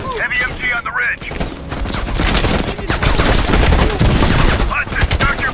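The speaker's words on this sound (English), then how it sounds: "Heavy MG on the ridge." Heavy machine gun fire in the Call of Duty: Black Ops Cold War campaign, sustained loud bursts of rapid shots with a clattering texture, dense and close.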